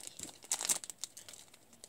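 A pack of Easter candy is torn and crinkled open, with bursts of crisp plastic rustling and a few sharp tearing crackles, close and fairly quiet, with no talking.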